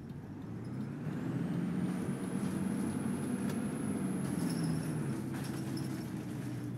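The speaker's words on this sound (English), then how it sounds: "The DAF DB250 engine in the game is very, very nice sounding." DAF DB250 Optare Spectra bus engine in OMSI 2, a steady low diesel drone with a rising high whine, running continuously and fairly loud.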